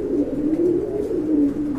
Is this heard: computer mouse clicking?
no